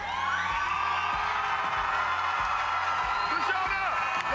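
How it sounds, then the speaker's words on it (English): Studio audience at a live broadcast show cheers, whoops and claps, a loud continuous crowd roar with sustained tones running underneath throughout. "Cue applause, Bobby."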